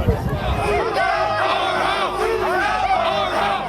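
Protesters, including a large group of Proud Boys, crowd near a Capitol Police line at the Capitol, a dense roar of shouting and chanting voices with overlapping yells, steady throughout.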